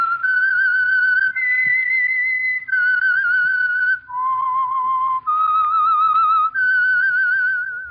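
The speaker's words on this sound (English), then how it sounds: "That whistle is your signal for the Signal Oil program, The Whistler." A lone whistler performs The Whistler radio theme, a clear, slightly wavering melody of sustained notes that step up and down in pitch with brief breaths between phrases, with no other sound.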